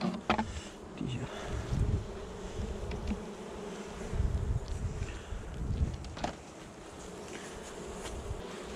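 An agitated honeybee colony in a rented home hive, opened for inspection, buzzes in a dense, continuous drone close by, with occasional rustling handling noises and faint murmurs.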